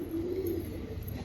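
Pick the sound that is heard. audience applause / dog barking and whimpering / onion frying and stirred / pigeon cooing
pigeon cooing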